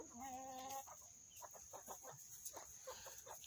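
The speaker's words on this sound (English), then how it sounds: "chickens in the corner back yonder" Backyard chickens cluck repeatedly nearby, a harmonic squawk opening the clip, then a steady run of short clucks over a background hiss.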